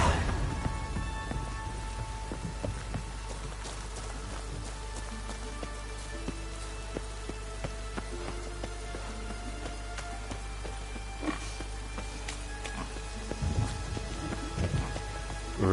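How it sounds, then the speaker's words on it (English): Rain in the video game The Witcher 3: Wild Hunt patters densely and steadily on surfaces, with scattered sharper drops and a low rumbling undertone throughout, no voices. "Rainy day."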